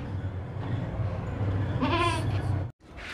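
A tall, healthy goat of the Gulabi breed bleats loudly and close over outdoor market background noise, one long wavering cry followed by a shorter call after a brief pause.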